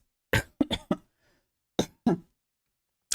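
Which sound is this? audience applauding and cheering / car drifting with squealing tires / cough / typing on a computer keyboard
cough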